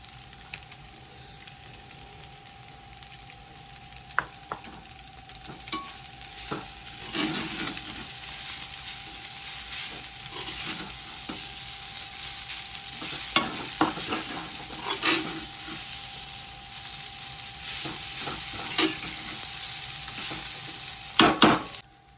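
Chicken noodles stir-fried over a high gas flame, a steady sizzle under scattered clanks and scrapes of a spoon tossing and mixing in the pan, close and continuous.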